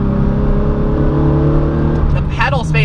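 A Porsche engine revs steadily through a heel-toe downshift, a loud, close, continuous drone with rising pitch toward the end and a voice briefly speaking over it.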